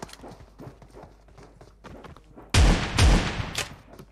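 In PUBG Mobile, light footsteps patter for a while before a loud burst of rapid gunfire erupts, followed by further shots fading out.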